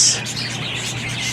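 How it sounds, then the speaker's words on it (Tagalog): Pet parakeets chirp inside a cage, giving short, bright, high-pitched tweets close by over a low background murmur of voices. "Gaganda ng mga ibon mga lods."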